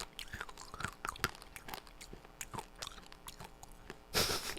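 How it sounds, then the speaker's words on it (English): A mouth full of Tic Tac mints makes soft, close wet clicking and sucking sounds as the small hard candies shift around, irregular and intimate, ending with a brief louder rustle. "I got a bunch of Tic Tacs in my mouth."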